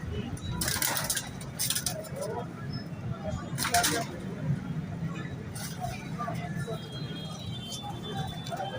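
Pigeons at an outdoor pigeon market, soft cooing blending into a steady crowd hubbub, with passing traffic and someone talking nearby throughout.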